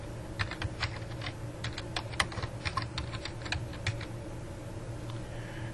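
Someone types a name on a computer keyboard, a quick run of light, close key taps in an uneven rhythm that tails off into quiet room tone.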